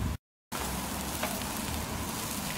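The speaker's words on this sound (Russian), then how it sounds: "Итак, ребят, вот жарится, но у нас очень сильный уголь, жар очень сильный." Shashlik kebabs sizzling over very hot charcoal on a grill, a steady crackling hiss that cuts out briefly near the start and then continues loud and unbroken, with no talk.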